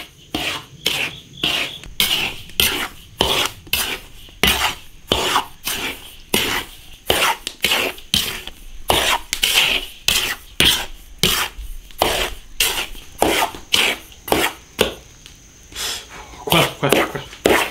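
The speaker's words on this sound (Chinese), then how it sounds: "逐渐把盐炒热，把那个香味炒出来" Rhythmic scraping and rasping strokes of salt being stir-fried in a wok with star anise, cinnamon and Sichuan pepper, repeating steadily about once a second, close and fairly loud.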